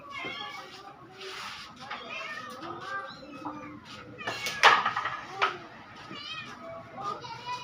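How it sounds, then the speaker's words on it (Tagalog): Several cats meow repeatedly at close range, plaintive rising calls scattered through the clip amid people talking and background bustle. "Ang dami pusa dito."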